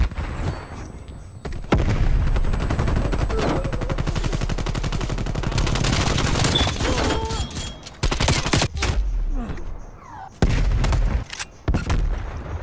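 Light machine gun fire in Call of Duty: Black Ops Cold War rattles in long, rapid bursts, loud and close, broken by a few short gaps, with a brief burst again near the end.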